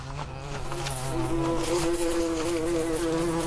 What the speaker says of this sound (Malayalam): ഈ ഈച്ചയെ കൊണ്ട് ഭയങ്കര ശല്യമാണല്ലോ.